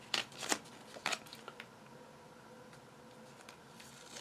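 Vinyl tape being cut off a roll: a few quick, faint snips and crinkles, a couple of sharper bursts near the start, then soft scattered rustling.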